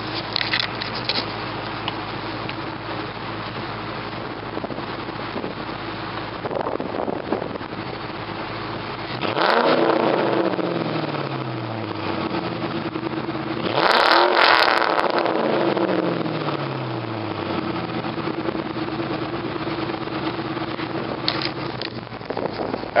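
A 1997 Ford Mustang Cobra drives past, its exhaust note rising in two strong acceleration pulls with rumbling revs and gear changes, accompanied by steady wind noise.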